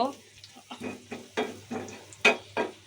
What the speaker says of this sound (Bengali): এখন এগুলো পেঁয়াজটা গোল্ডেন কালার হওয়া পর্যন্ত আমি ভেজে নিব।